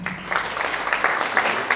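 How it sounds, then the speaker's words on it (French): An audience at a Senegalese accountants' club diploma ceremony applauds steadily, a dense patter of many hands clapping close by throughout. "M. Soumaré, sous vos applaudissements"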